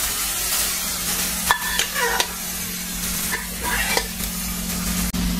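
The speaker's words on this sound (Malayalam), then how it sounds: "കുക്കറിലിട്ട് വെച്ച് കഴിഞ്ഞാൽ നല്ലപോലെ ഒന്ന് ഇളക്കി കൊടുക്കുക" A spoon stirs a thick whole black masoor dal mixture in a metal pressure cooker with soft scraping and a few light clinks, alongside a steady low hum.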